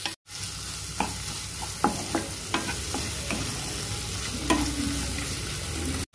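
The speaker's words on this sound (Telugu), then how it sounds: "చేసిన మష్రూమ్ ని వేసుకుందాం. మష్రూమ్ కి మసాలా పట్టే వరకు ఫ్రై చేసుకుందాం." Mushrooms frying with masala in a pan, a loud continuous sizzle with a run of crisp spoon scrapes and taps against the metal, clustered early and then thinning out, no talking.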